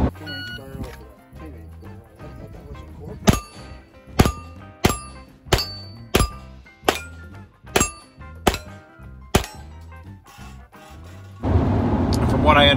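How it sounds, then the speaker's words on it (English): Gunshots striking steel plate targets at an outdoor steel shooting match produce a steady series of about ten sharp, ringing metallic clangs at roughly one-second intervals, loud and close, ending in a burst of broad noise. "come to the steel match where you just shoot steel plates"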